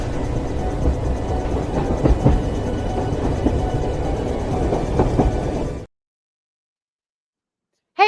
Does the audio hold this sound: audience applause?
no